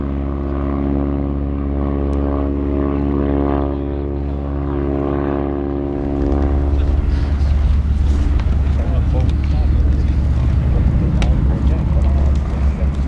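A Stearman biplane at an airshow wing-walking display drones loudly and steadily as it slows for landing, its propeller engine humming close by before a rougher, broader roar takes over, with a commentator talking over it.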